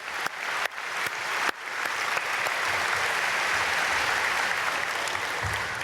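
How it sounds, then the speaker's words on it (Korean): A church congregation at a Myungsung Church early-morning prayer service claps together in steady, dense applause, building quickly after a few scattered first claps and holding loud and even throughout. "우리 박수로 축복하겠습니다."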